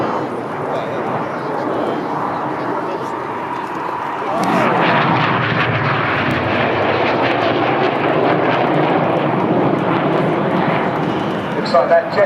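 Red Arrows jets roar through an airshow display at Sunderland Airshow 2015, a loud broadband rumble that swells sharply midway and stays heavy, with a commentator talking over it throughout.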